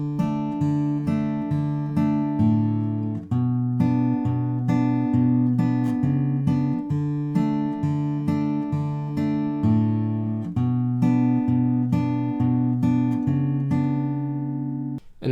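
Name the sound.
acoustic guitar fingerpicking song chorus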